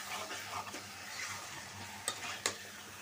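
Chicken being stirred with spices in a pan for a spicy Bengali chicken bhuna, soft scraping and low sizzling throughout, with a couple of sharp utensil clinks against the pan near the end.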